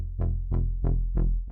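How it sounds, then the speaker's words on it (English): Four sustained, gritty synth notes from Serum 2 rise and fall in a steady rhythm with a harsh distorted edge, then a short fifth note cuts off. "Let's get some distortion just to bring it out more."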